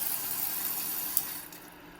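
Hot water runs from a tap inside a Sprinter camper van in a steady, close hiss of flowing water with a soft mechanical click partway through.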